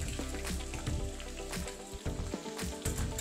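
Crushed garlic fries in hot oil in a pan for raw mango dal, giving a steady close sizzle with crackling pops and a faint stirring scrape.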